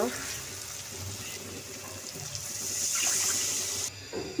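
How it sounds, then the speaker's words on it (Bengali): Water is poured into a cooking pot of simmering beef tripe, making a continuous rushing pour that swells partway through and stops near the end. "এখন জলটার জন্য পানি দিয়ে দিব"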